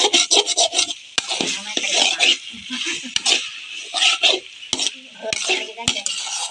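Curry being stirred and sautéed in a pan with a spoon, with repeated scraping and rasping strokes in an uneven rhythm and occasional sharp metallic clicks of utensil on pan, close and fairly loud.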